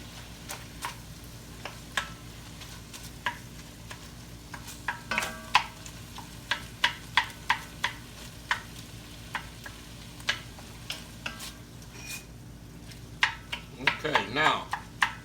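Lean ground venison and sausage browning in a pan, a low steady sizzle with scattered clicks and scrapes of a utensil stirring, faint and close, with a louder clatter near the end.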